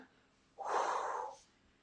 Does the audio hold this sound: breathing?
yes